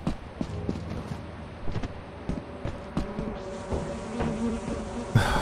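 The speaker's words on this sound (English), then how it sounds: "Oh my God, there's so many bees." A swarm of bees in the video game Lethal Company makes a steady low buzzing drone under scattered thumps and footsteps throughout, moderately loud, with no talk over it.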